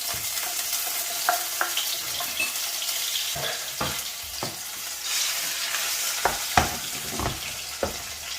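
Oil sizzles steadily in a pan with frying onions, broken by scattered clinks and scrapes of a utensil stirring.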